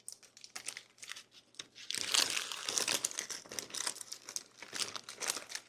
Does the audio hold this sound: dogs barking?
no